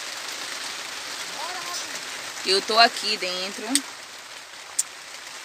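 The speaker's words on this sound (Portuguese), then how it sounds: "Agora tô aqui, ó, tá chovendo." Steady rain falls outside a rural home in the countryside after lunch is cooked, a soft continuous patter heard from indoors, with a person speaking briefly over it.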